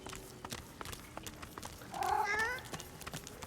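A cat meows in the video game Divinity Original Sin 2, one drawn-out, wavering call rising clearly over soft background game ambience and light footsteps.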